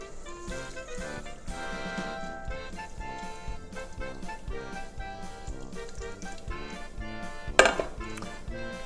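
Milk, milk powder and yeast are whisked in a bowl for German Berliner doughnut dough. Quick, regular tapping and clinking strokes repeat steadily, close by, over soft background music, ending with a sharper clatter.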